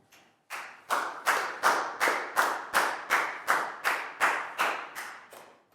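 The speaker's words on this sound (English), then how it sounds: "So high five for Lackow and a big round of applause" A Year 4 maths class claps for a student in a steady, rhythmic series of about a dozen evenly spaced, unison claps, crisp and close, with no talking.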